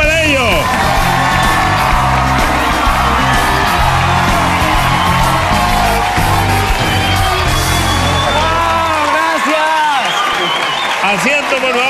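A television studio audience claps and cheers for arriving stars, a loud dense wall of applause with whoops and yells sustained throughout, voices shouting within the crowd noise.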